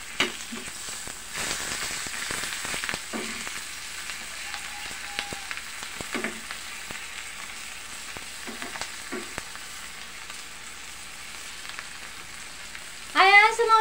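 Dried salted fish (tuyo) frying in a pan: a steady soft sizzle with small crackles and a few scraping stirs, close by, with no one talking.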